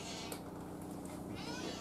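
A house cat gives a couple of soft, faint meows against a quiet room background.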